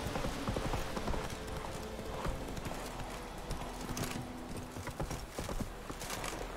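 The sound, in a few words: Roach the horse's hooves walking in video game Witcher 3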